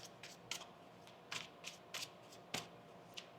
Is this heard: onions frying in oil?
no